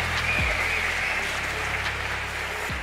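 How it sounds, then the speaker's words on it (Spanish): Audience applause at a Spanish presentation event for an annual gala, a steady broadband wash of clapping that holds for nearly three seconds with a low hum underneath. "¡Aplausos!"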